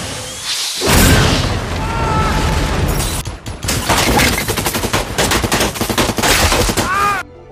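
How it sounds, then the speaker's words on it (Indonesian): Film battle from The Book of Eli, with rapid Gatling gun bursts, heavy gunfire and booming RPG explosions, loud and dense, in dialogue-free action mixed with score. "Mereka saling menembak hingga akhirnya Carnegie menggunakan dua senjata andalannya, yaitu RPG dan juga Gatling gun."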